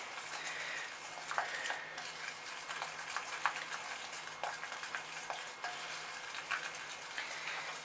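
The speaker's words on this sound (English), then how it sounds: "let's give it a mix now" Icing sugar being stirred in a bowl for cupcakes from a Bluey cupcake kit, a soft steady scraping and stirring with light clicks of the utensil against the bowl, close and continuous.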